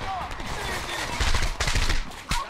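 Rapid bursts of gunfire in the video game Homefront crackle over a busy, noisy battle mix, with sharp shots clustering toward the end.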